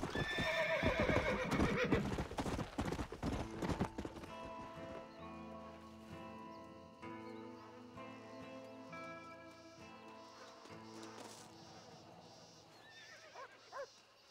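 Horse in the Red Dead Redemption video game, rapid clip-clop of hooves and loud neighing and whinnying early on, settling into quieter game ambience and tonal music with faint snorts later.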